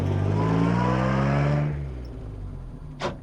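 A Jaguar XK150 engine revs hard and pulls under acceleration, a loud, close, rising growl that eases after a second and a half into a lower, steady drive.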